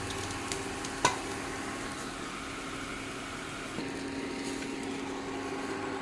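Potatoes fry in a pan, a steady low sizzle running throughout, with one sharp clink of the spatula and a few faint stirring scrapes.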